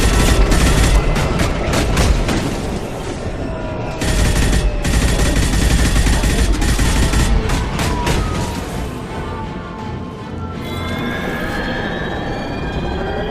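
Sustained rapid gunfire in the sci-fi shooter Mass Effect 2, a loud dense crackle of overlapping shots running almost continuously with a brief lull, heavy rumbling under it and no one talking.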